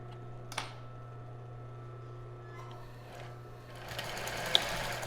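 A sewing machine runs a straight stitch at length 4 while sewing a child's bra, its steady motor hum and rapid needle ticking building louder toward the end, with no talking.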